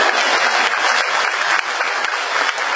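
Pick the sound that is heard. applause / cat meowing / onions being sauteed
applause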